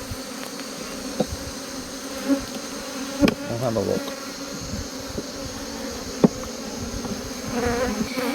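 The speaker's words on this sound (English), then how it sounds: "there is bees in here" Bees buzzing steadily inside an open beehive infested by small hive beetles, a close, continuous drone with a few louder passes, and someone speaking briefly.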